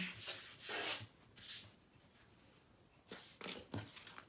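A paper trimmer slices through paper while making a Halloween mini album, heard as several short rasping slides in quick bursts, close and fairly quiet, with no talking.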